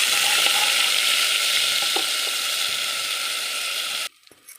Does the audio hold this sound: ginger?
yes